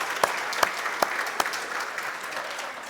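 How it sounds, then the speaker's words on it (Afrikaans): A small gathered audience applauds to wish a woman a happy birthday, a short burst of clapping from many hands, moderately close, with a few sharp louder claps standing out at the start. "Kom ons klap vir haar hande."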